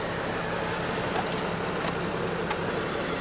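A lorry passes in road traffic, a broad steady engine and tyre rumble heard at moderate distance amid general traffic noise.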